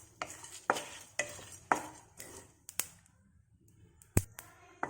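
A spatula scrapes and stirs roasting spices in a hot pan for ground-paste chicken curry, giving a steady rhythm of about nine sharp, close strokes with faint sizzling between them.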